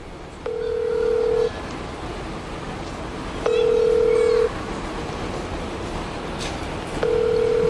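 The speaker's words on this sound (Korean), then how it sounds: "저장돼 있던 아들의 번호로 전화를 걸어보기로 한 건데요" A mobile phone calls a son's number, and a ringback tone repeats in three long, evenly spaced beeps over a murmuring outdoor night background.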